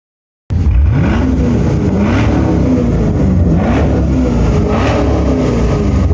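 A Chevrolet Camaro SS 6.2-litre V8 engine revs repeatedly, rising and falling in deep rumbling surges, loud and close after a brief silence.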